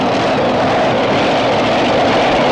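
A drag racing car at the 1995 Shootout at Avon Park accelerates with a loud, sustained broadband engine roar that stays steady and close throughout, with no talk over it.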